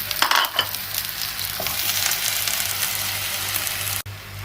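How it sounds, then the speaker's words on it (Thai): Fresh young bai liang leaves are stir-fried in a hot pan, with a steady sizzle and scraping stirs before the sound cuts off abruptly near the end. "นำใบเหลียงลงไปผัดได้เลยค่ะ"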